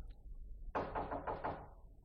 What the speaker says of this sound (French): Barnabé frappe à ma porte.